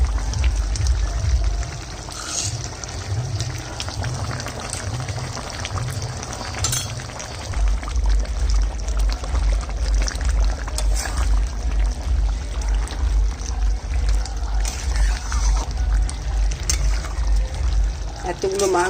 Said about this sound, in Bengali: জিরার গুঁড়োটা আর ধনের গুঁড়ো বাটাটা দিয়ে দিই।